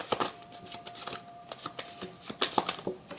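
A deck of tarot cards is shuffled close up, quick crisp riffles and soft slaps of card on card in uneven bursts, fairly quiet, with no talking.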